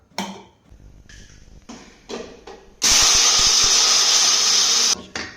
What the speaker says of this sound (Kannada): ಸೊ ಇದನ್ನೆಲ್ಲ ಮಿಕ್ಸಿ ಮಾಡ್ಕೊಳ್ಳೋಣ.